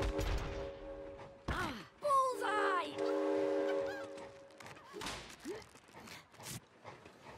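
A train in the co-op video game It Takes Two sounds a whistle and horn with rumbling rail movement, broken by a few short cartoonish game effects.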